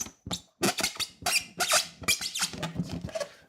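A rubber balloon squeaks and stretches as it is being tied, with a rapid run of sharp, close, fairly loud squeals and rubbery chirps, broken by brief pauses.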